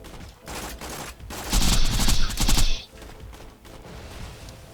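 Dense turret gunfire rattles away in Borderlands 2 on the Digistruct Peak challenge, a fast burst of rapid shots mixed with explosions that peaks loudly midway and then drops to a steadier background clatter.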